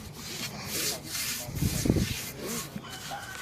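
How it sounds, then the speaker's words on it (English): Hardwood slats of an antique Edwardian cast iron bench being sanded by hand, a steady close rubbing and scraping that swells briefly louder midway through, with no voices. "When I was scraping and sanding it, I noticed that it has a red tinge"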